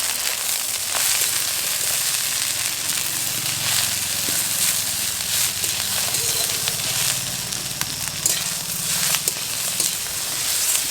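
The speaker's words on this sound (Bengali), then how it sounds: "পেঁয়াজটা বাদামি হয়ে ভাজা হয়ে গেছে, দিয়ে দেব সিদ্ধ করে রাখা শুশনি শাক।" Chopped onion fried brown in oil, then boiled susni greens tipped into the pan, giving a steady loud sizzle and hiss with scattered crackles throughout.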